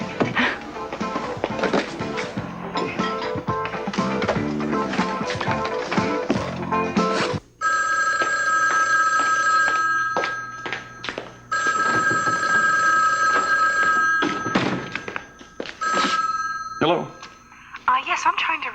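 A telephone rings repeatedly in electronic trilling bursts, preceded by busy clattering sounds, fairly close and loud.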